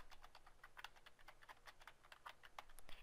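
A burst of quick keystrokes on a computer keyboard as a book title is entered into a library catalogue search box, steady rapid clicking, close and quiet with no talking.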